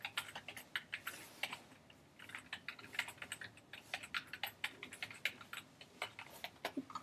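Someone types steadily on a Mac computer keyboard, with a run of quick, crisp, close key clicks in an uneven rhythm and short pauses between bursts.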